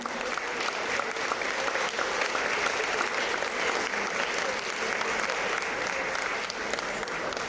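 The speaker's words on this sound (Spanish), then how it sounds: "me gustaría que la acompañaran con un fuerte aplauso para Sandra." A conference audience gives a steady, sustained round of applause for a speaker at an international congress on aging, a broad, even clapping heard from within the hall.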